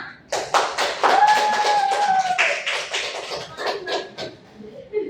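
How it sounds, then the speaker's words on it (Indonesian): Brief applause from a classroom audience at the close of an Indonesian microteaching session, a burst of dense clapping lasting several seconds, with a voice speaking over it. "Tepuk tangan untuk kita semua."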